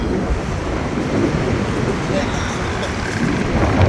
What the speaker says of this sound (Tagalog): mahangin lang so mahangin ngayon guys mahangin ngayon